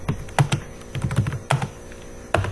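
Someone types C++ code on a computer keyboard, giving a short, uneven run of close, crisp key clicks in small clusters with brief pauses, without any talking.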